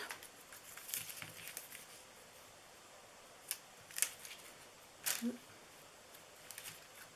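Scissors snip ribbon for a bow on a handmade Easter treat box: a few faint, crisp cuts spaced apart against quiet room tone.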